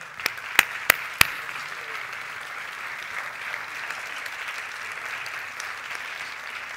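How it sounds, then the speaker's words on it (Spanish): Applause from the audience at the Forqué awards ceremony, opening with a few sharp individual claps that swell into a soft, sustained, fairly distant wash of clapping across the hall. "Y le vamos a recibir con un fuerte aplauso"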